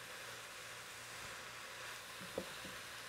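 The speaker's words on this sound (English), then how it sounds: "You can hear that sizzle." Broccoli cheese soup sizzles in a pot on the stove, a steady faint hissing fry with a soft tap near the end, no talking.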